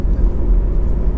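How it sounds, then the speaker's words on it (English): A Honda CR-Z 1.5 hybrid IMA hatchback heard as a steady, close low engine rumble and road whir, continuous and fairly loud with no voices. "one of my cars arriving."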